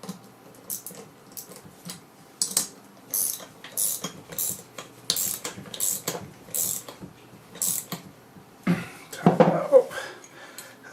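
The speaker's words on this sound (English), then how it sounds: "we can use the clamp to push that point back in" A clamp being tightened on a dart to push a new point back into the barrel, giving a series of close, repeated ratcheting clicks and mechanical ticks, ending in a louder grinding burst.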